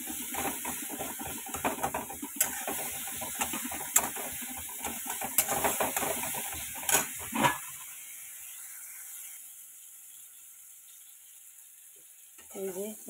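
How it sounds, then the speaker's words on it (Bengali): Onion, turmeric, salt and green chillies frying in a pan, a faint crackling sizzle with rapid ticking pops for several seconds that then drops to near silence, with a brief sound at the end. "ব্যাস এই দিয়ে এটাকে ভালো মতো ভাজবো।"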